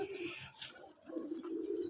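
Native pigeons cooing softly, a low rolling coo that swells, dips briefly, then returns, with no talk over it.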